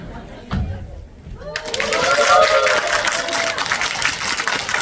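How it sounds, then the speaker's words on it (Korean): A lecture audience bursts into dense, sustained applause after a brief quiet moment, with the clapping filling the room, staying fairly loud and continuing to the end. "한번 박수 한번 해볼게요"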